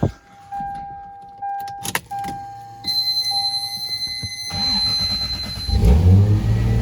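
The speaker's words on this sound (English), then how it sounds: "But if I have it on 12 volt, 40 amp, it idles like super high." A big-turbo Lexus GS300 engine runs at a high idle nearby, a steady loud drone with a whining tone, following a few clicks and a brief start-up burst, and it swells louder toward the end.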